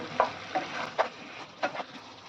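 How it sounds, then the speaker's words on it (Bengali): Chicken with four green chilies being stirred in a pan after the lid comes off, a spoon scraping in several distinct strokes over a steady low sizzle, close and alone. "দিয়ে দিচ্ছি চারটে কাঁচা লঙ্কা আর একটুখানি নেড়ে চেড়ে দেবো"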